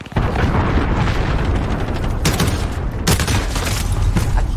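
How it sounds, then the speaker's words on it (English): Cruise missile strikes in the video game Call of Duty Warzone, a loud, sustained roar of explosions and booming bursts filling the whole stretch, with sharper blasts surging about midway and again near the end. "Allied cruise missile launched."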